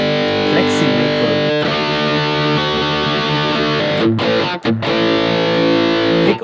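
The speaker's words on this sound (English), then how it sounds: "Click on to get hot rodded British lead amp tones" An electric guitar plays through a Hotone Ampero 2 Stage on a Pleximaker hot-rodded British lead amp tone: loud, saturated distorted chords ring and sustain, broken by a couple of sharp choked gaps near the end.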